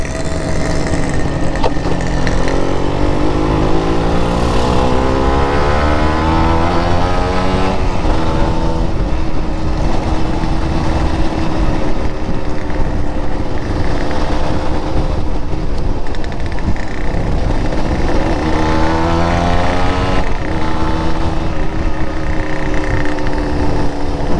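Kawasaki Ninja RR two-stroke sport motorcycle in original factory condition, ridden through a corner; a loud continuous engine drone with shifting rev tones and wind rush throughout.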